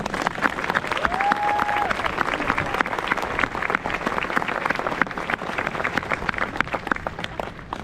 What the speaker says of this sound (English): Please join me in a round of applause as we recognize our recruiters and their families.